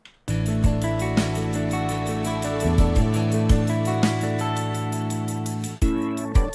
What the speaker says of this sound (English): what you're hearing right now is a bad reverb tail